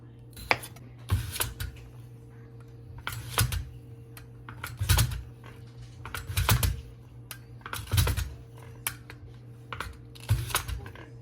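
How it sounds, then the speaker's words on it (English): A knife dicing potatoes into half-inch pieces on a cutting board, giving sharp, regular chops roughly every second and a half, close and fairly loud, over a steady low background hum. "Now we're gonna dice the potatoes into 1/2-inch pieces."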